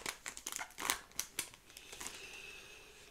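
A Yu-Gi-Oh! card booster pack being torn open by hand, a quick run of close crinkling foil rips and crackles that fade into a faint rustle, with no talking.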